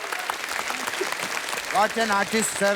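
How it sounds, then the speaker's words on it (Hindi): A studio audience at a comedy show applauds, a burst of clapping heard mostly at the start and then fading under a voice speaking up close. "गजराज राव जी के लिए जोरदार तालियां हो जाए।"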